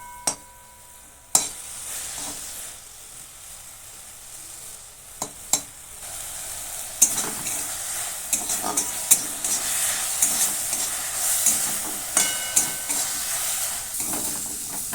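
Fenugreek (methi) leaves dry-fry in a pan with a soft continuous sizzle, broken by intermittent sharp scrapes and taps of stirring.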